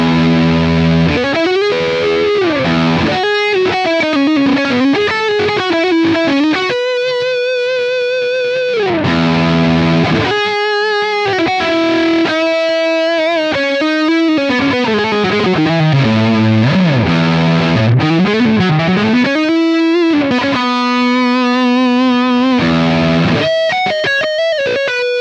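A Squier Affinity Starcaster electric guitar played through heavy distortion with chorus-like effects, switching between pickups including the neck pickup. Loud sustained notes, slides and bends run continuously without pause, with no talking.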